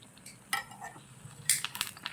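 Brinjal fritters are flipped with a small utensil in a miniature frying pan, giving a few light metallic scrapes and clinks over a faint, steady sizzle of oil, close by and with no one talking.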